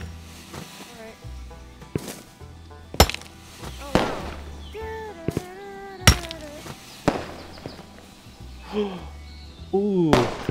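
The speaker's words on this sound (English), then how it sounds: "It's like Rec Room Dodgeball. But it's fireworks and more dangerous." Fireworks go off in the VR game A Township Tale, sharp cracking bangs spaced irregularly with whistling, warbling tones between them, while people talk and exclaim throughout.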